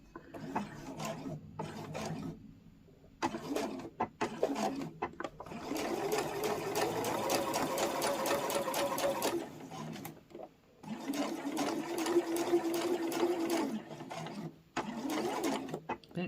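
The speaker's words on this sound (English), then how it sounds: "I'm going to sew as close to the edge as I can" A sewing machine stitches close to the edge of a small boxed fabric pouch in several close whirring runs, the longest lasting several seconds, separated by brief pauses and handling sounds.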